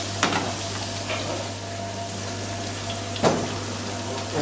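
Potatoes frying and browning in a generous amount of butter in a pan, a steady close sizzle with a couple of brief utensil knocks, no voices.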